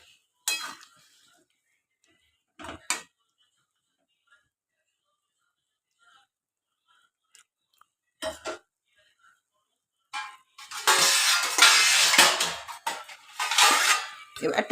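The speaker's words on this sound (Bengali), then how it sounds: "এবার ঢাকিয়ে দিলাম।" A lid set on a cooking pot of jackfruit seed curry, a few short metallic clinks and clatters of pot and utensils separated by silence, close, ending in a longer burst of scraping and rattling.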